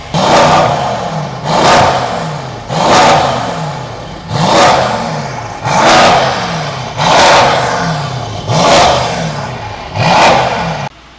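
Stage 2 tuned Mercedes E63s with downpipes revving with exhaust valves closed: eight loud, evenly spaced blips that rise sharply and fall away, each burst followed by a brief settle before the next.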